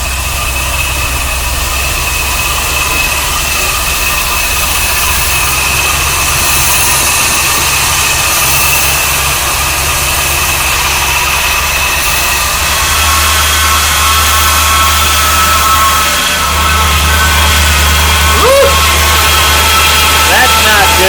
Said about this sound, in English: Let's see what it does when it's revved up.